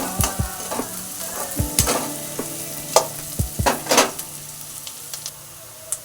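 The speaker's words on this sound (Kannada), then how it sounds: "ಚಿಕ್ಕ ಕಟ್ ಮಾಡಿ ನೆಕ್ಸ್ಟು ಒಂದು ಗಂಟೆ ಬೆಳ್ಳುಳ್ಳಿ ಸೇರಿಸ್ತಾ ಇದ್ದೀನಿ ಇದು ಚೆನ್ನಾಗಿ ಫ್ರೈ ಮಾಡಿ" Two medium chopped onions and garlic frying in a pan, a steady sizzle under sharp clinks and scrapes of a stirring spoon, close and fairly loud, with no talk.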